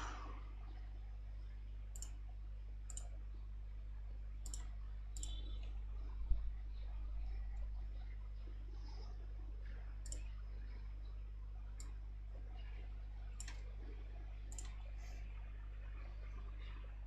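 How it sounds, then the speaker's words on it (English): Faint, scattered key clicks from typing on a Bluetooth computer keyboard, light taps spaced irregularly over a steady low electrical hum in a quiet room. "this stupid piece of shit Bluetooth keyboard"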